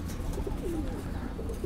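Royal Teddy pigeons in a loft setup coo softly, a brief low throaty call rising and falling over a dense background hum.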